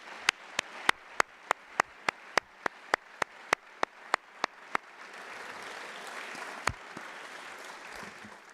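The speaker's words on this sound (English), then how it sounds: "please join me in a round of applause for John Hammer" A string of sharp, evenly spaced claps, roughly fifteen in a steady rhythm, giving way to a diffuse wash of crowd noise.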